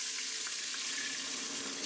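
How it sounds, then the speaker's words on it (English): Water pours steadily into a pressure cooker, a continuous close splashing stream with no voices, for about two seconds. "I'm going to add 2 cups of water"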